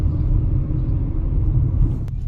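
A Kia Sorento with sagged rear suspension and no load cruising along a smooth paved road, heard from inside as a close, continuous low rumble of tires and engine with no talking.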